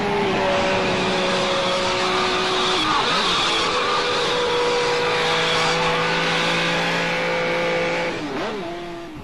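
A car drives at high speed, about 160 km/h, its engine roaring loud and close in a sustained drone with shifting pitch and brief dips as the revs change.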